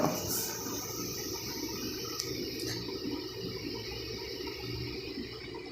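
Irrigation water rushes and gurgles in a steady, continuous flow, a constant watery hiss close by with a faint high tone above it.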